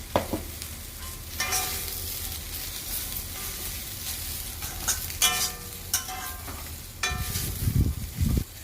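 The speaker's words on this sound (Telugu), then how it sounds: "ముక్కలకంతా బాగా పట్టేలాగా కలుపుకుంటూ ఉండాలి." Vegetable pieces with turmeric frying in a pan, a steady sizzle with repeated scraping stirs of a spoon against the pan and louder clattering strokes near the end; no talking.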